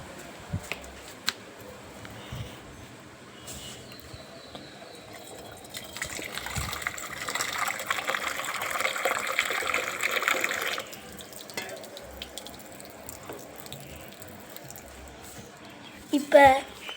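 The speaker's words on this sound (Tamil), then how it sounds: "இப்போ நம்ம தண்ணி வச்சிருவோம்." Water poured into a container, a hissing gush that swells for several seconds in the middle before fading, with quieter splashes and handling noises before and after.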